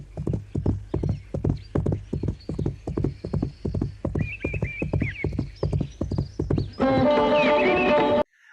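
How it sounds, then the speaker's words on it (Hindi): A galloping horse pounds out rapid, evenly spaced hoofbeats that stay loud and close, ending in a sustained whinny over the last moments. "घोड़ा दौड़ाते हैं"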